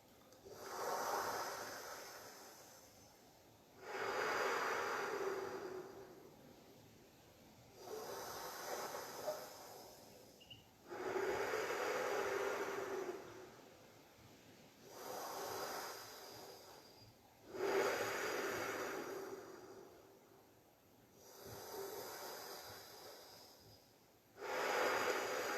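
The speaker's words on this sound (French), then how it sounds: "Inspire, expire par la bouche." Slow, deep breaths in and out through the mouth, each breath a soft, airy whoosh lasting a few seconds and repeating in an even rhythm, close and quiet with pauses between.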